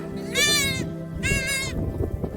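A small herd of goats, sheep and lambs heading out to pasture: two loud, close bleats, each about half a second long, with a brief pause between them over steady outdoor background noise.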